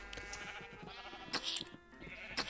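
A Minecraft sheep bleats faintly several times, a soft wavering call that recurs over quiet game background.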